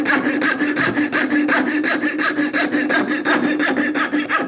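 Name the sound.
coping saw cutting wood for a spatula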